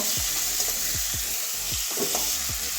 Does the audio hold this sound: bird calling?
no